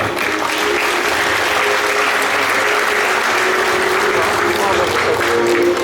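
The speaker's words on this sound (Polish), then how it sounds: "Ogromne brawa!" Loud, steady crowd applause fills a political rally as a local councillor candidate is introduced, dense clapping sustained from start to finish with a faint voice over it.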